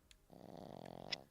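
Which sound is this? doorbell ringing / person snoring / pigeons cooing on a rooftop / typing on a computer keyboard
person snoring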